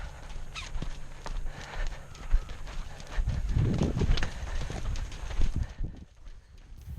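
Dandy, a horse being worked and roped, moves with clip-clopping hooves in an irregular patter of soft thuds that thicken into a busier cluster midway before fading, close by and without talk.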